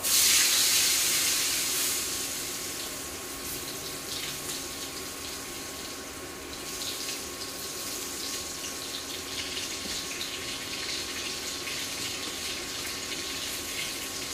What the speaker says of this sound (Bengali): আলুটা প্রথমে ভেজে নেব, তারপরে কপি ভাজবো।